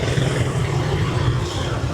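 Dense street traffic in Hanoi, Vietnam, forms a steady loud roar of engines, mostly motorbikes, with constant rumble and no clear gaps.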